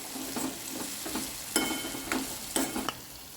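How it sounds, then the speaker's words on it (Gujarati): Salt, red chili powder, garam masala and coriander-cumin powder are stirred into a pan for a Kathiyawadi brinjal olo made without onion or garlic, giving about half a dozen distinct scraping spoon strokes over a soft background sizzle. "હવે આ બધું બરાબર મિક્સ કરી દેવાનું"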